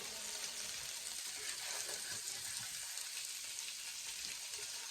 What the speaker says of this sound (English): Now I'm turning them over and I'm going to sear the other side of the meatballs.